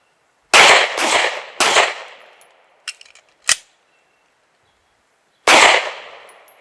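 Loud gunshots on an outdoor shooting range during a timed drill: a fast cluster of three sharp reports, two fainter pops, a pause, then one final shot, each cracking against otherwise quiet surroundings.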